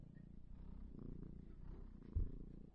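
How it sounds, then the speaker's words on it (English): A cat purrs softly and close by in a low, continuous rumble, with one brief bump near the end. "I don't know if you can hear her purring or not"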